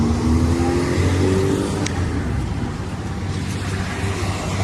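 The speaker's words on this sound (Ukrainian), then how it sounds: "Ось такий от мотоцикл." A Musstang ADV Challenge 250 motorcycle, the updated 2025 model, runs with a steady engine hum and rumble at moderate loudness, holding fairly even with slight dips in level and no talking over it.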